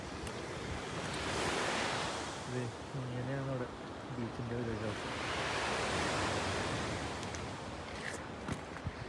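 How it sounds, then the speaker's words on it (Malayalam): Ocean waves wash onto a beach in slow, broad swells of hiss, with a brief low hum partway through. "തിരമാലയും കുറവാണ്"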